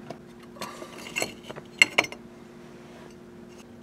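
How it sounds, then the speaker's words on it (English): A screwdriver works Phillips screws out of a 1973 Firebird steering column, making sparse small metallic clicks and scrapes that cluster into a few sharper ticks midway, close and fairly quiet against a low hum. "Looks like I have to take a few Phillips screws out here."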